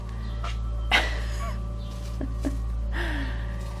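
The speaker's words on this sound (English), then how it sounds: "Excuse the quacking in the background." Faint, distant duck quacks scattered over a steady low hum, several short calls at irregular intervals with no talking.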